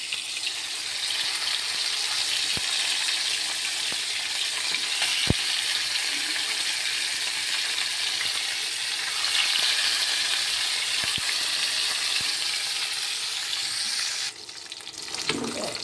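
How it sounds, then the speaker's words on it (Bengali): Pangas fish fillets frying in hot oil in a home kitchen, a steady broad sizzle with faint clinks of dishes, continuous and close, no talking. "একদিকে মাছ ভাজি করতেছি"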